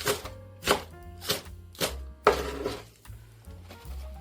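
A knife thinly slicing green onion on a cutting board: a run of close, crisp, evenly spaced chops with clicks against the board, and no voices.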